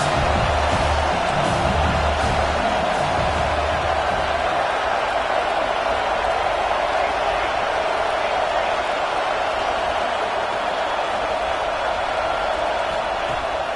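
Stadium crowd noise from a college football video game, South Carolina against Alabama, forms a dense continuous roar of cheering throughout, with a commentator's voice speaking over it.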